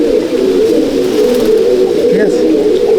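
Close, continuous low cooing from an Andhra pigeon held in someone's hand inside a loft, a steady droning murmur with a voice talking over it.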